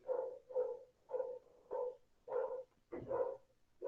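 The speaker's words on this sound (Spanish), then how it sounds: "por ahí está el perrito también ladrando" A small dog barks in a steady series of about seven short, mid-pitched barks, fairly faint and alone, as if from a room nearby.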